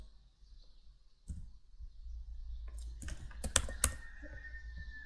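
JavaScript code is typed on a computer keyboard, with scattered soft keystrokes followed by a quick burst of several sharp clicks, quiet and close.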